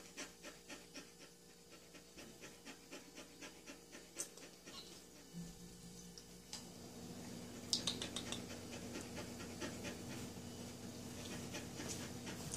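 A dog pants in quick, steady rhythmic breaths close by, faint and continuous, with the pace loosening and a little scratching or shuffling creeping in toward the end.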